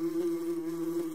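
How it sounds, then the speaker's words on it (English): A wasp buzzes in one steady, continuous drone, close and fairly loud, with a strong low hum and faint overtones and no voices. "Wasp."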